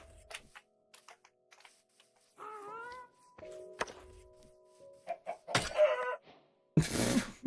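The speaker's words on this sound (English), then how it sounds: "Poor chicken." A Minecraft chicken gives a few short, thin clucks amid sparse game noises, quiet thunks and clicks, ending in a couple of louder rustling bursts.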